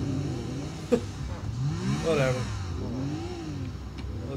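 A car engine revs in the video game GTA IV, with the pitch rising and falling in sweeps and one sharp knock near the start, while someone talks over it.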